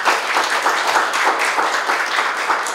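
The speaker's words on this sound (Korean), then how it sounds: "박수로 환영해 주시기 바랍니다." An audience applauds to welcome a lecturer to a talk on the Korean constitution in an office venue, a steady, dense wash of hand clapping filling the whole stretch at even loudness.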